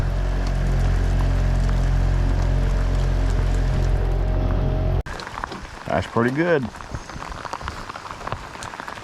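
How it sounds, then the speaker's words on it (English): Heavy rain pours down outdoors at a fishing spot, a dense, steady hiss that cuts off abruptly midway, after which someone speaks over lighter patter and chirping insects. "Raining, pouring down rain."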